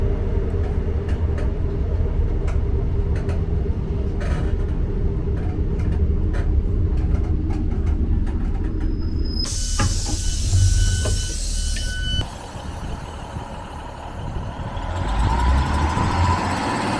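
A Blackpool South passenger train runs near Salwick station with a steady, loud rumble. Midway, a sharp high screech of wheels or brakes cuts in, then eases back into a quieter roll.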